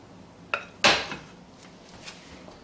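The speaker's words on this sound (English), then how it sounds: "now I'm going to take half of it and put in my pan here" Dry macaroni dropped into a cooking pan gives a short clatter, a small tap and then a louder rattling rush that fades, heard up close with no talking.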